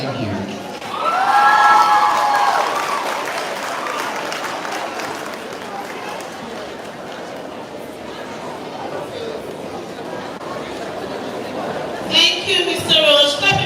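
Applause and cheering from a crowd at a high school graduation ceremony, swelling loudly for several seconds and then fading to a steady patter of claps under chatter, with a brief louder burst near the end.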